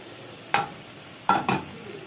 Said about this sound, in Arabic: دلوقتي بعد ما الطماطم كده اتسبكت، هنزل كده بقى بالفول بتاعي